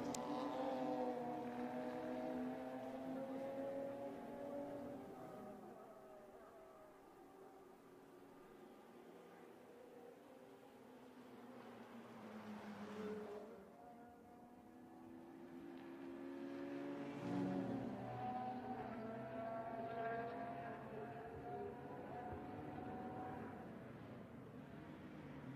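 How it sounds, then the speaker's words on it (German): DTM Classic Cup race cars lapping Hockenheimring near the final flag, a continuous distant roar of engines swelling and fading as cars pass, with sustained droning tones and no talk. "Genießen Sie mal kurz vor dem Fallen der Zielflagge den Motorsound des DTM Classic Cups"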